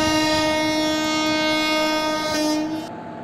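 An Indian train in a realistic train simulator game, its horn sounding a long, loud chord over a low rumble of the train pulling away, fading near the end.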